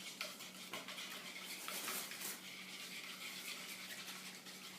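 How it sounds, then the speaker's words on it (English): Faint scraping and clinking as a homemade volcano mixture is stirred in a container, a steady soft rasp with light tapping strokes and no talking. "Now just stir it up."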